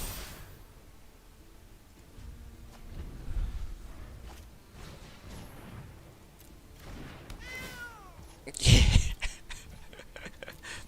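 A cat meows in a short series of rising, wavering calls near the middle, set against low background noise and a brief loud thump or clatter just after.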